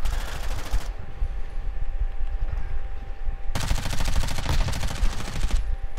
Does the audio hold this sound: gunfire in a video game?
yes